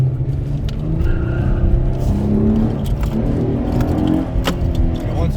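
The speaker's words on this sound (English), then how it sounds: "the engine would rev up higher" A car engine revving higher under light throttle taps with a performance upgrade fitted, a loud, steady engine roar with rising pitch swells throughout, heard up close with no talk.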